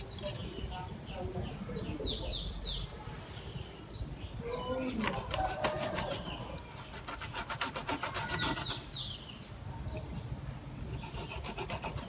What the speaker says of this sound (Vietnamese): Dùng cưa.